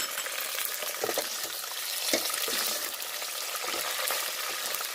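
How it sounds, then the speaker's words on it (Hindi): Steady, loud sizzling of chicken frying in hot oil with browned onions, with crackling pops and occasional stirring scrapes close by. "अब जो है हम इसमें ये चिकन शामिल कर देंगे"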